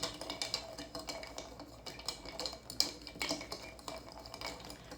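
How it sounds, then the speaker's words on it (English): A whiskey cocktail stirred with ice in a mixing glass, a steady run of light clinking and ticking as the ice and spoon knock against the glass. "Then I'm going to add the second half of the whiskey in and more ice and stir it down before I strain it"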